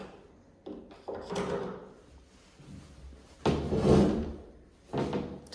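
An apartment door is opened and closed, giving a series of close clunks and thuds spread over several seconds, with handling noise between the louder knocks and short quiet gaps.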